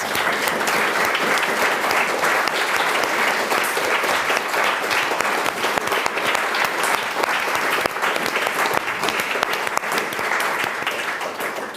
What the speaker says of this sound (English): Please join me in thanking our excellent panellists.